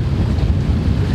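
Wind blows steadily across a sailing boat with its sails up on a lake, a loud, dense rumble of buffeting gusts with no voices.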